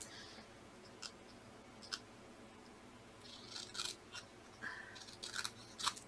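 Scissors snip through fabric scraps while trimming a quilt background piece, a few sparse cuts early, then a busier run of short crisp snips near the end, close and fairly quiet with no talking.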